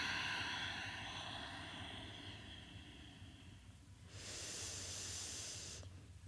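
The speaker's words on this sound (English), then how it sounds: "Ujjayi, exhale." Ujjayi breath during a power yoga session: a soft, airy hiss of an exhale that fades out, then a second short breath, faint and close to the microphone, with no talking.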